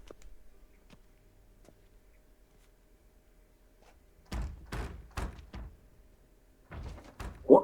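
In The Witcher 3 video game, a closed bathhouse door is knocked on and rattled, giving a series of sharp thuds and bangs after a quiet stretch.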